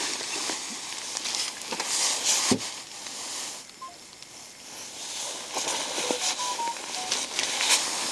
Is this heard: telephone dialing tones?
yes